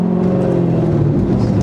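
A Chevrolet Corvette C5 with a manual gearbox, heard from inside while driving: a steady, loud, deep engine drone with the revs shifting slightly near the end.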